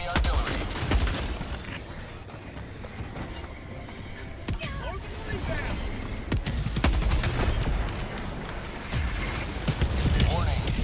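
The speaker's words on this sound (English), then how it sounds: "Warning, you are in range of enemy artillery." Enemy artillery fire in World of Warcraft, a dense run of sharp gunfire-like cracks and blasts over a continuous noisy rumble, loud and busy throughout.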